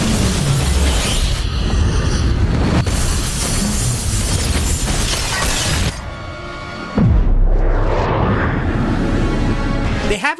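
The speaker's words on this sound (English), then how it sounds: "the explosion is pretty cool" Missile explosion from the film Resident Evil: Apocalypse: a loud, sustained broadband roar and rumble with crackling debris, dipping briefly before a second heavy low-end blast swells near the end, with some voice mixed in.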